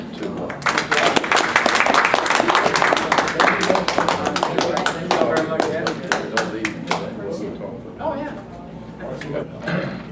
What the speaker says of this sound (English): we certainly owe a round of applause to